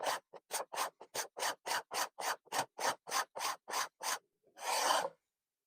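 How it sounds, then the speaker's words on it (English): A cheap AliExpress rasp shaves a curved wooden surface in about fifteen quick, evenly spaced scraping strokes, close and crisp, followed by one longer rasping pass. "Well, it does actually cut. The surface that it leaves is actually fairly smooth."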